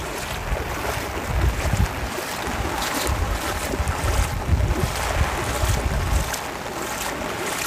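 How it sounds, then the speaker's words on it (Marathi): Heavy monsoon rain pouring down steadily over a flooded street, a dense, loud, continuous roar with gusty swells and no voices. "पावसाचा जोर हा कमीच होत नाही मित्रांनो, थोडा वेळ बारीक होते परत जोर पकडते"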